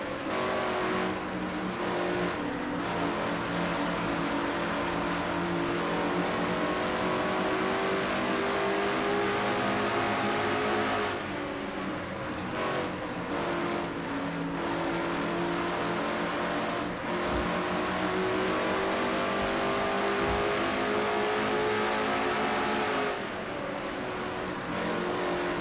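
Race cars in a racing video game drive past the start-finish line with steady, loud engine roar and shifting revving pitches, held continuously throughout, with occasional brief tire noise.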